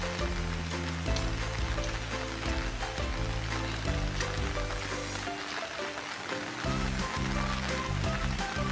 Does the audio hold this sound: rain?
yes